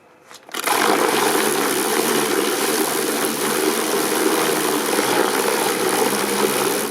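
A small solar-powered boat motor runs under heavy load in water, giving a loud, steady rushing churn after a brief quiet start and holding constant to the end, with no voices.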